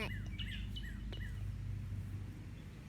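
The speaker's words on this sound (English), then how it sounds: "Yeah, bird." A bird calls outdoors in a few quick descending chirps near the start, fairly faint over a low steady background hum, with no talking.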